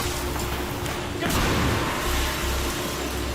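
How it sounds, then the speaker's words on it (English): On a film set inside a real building, a high-pressure air blast practical effect fires as a sudden loud whooshing burst of rushing air, following a steady background hum. "everything that we did was all high pressure air blast"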